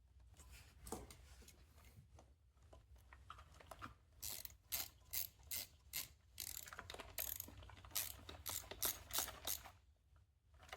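A hand ratchet clicks in quick repeated bursts as it tightens the starter solenoid on a Yamaha YBR125 motorcycle, close and distinct, with short pauses between strokes.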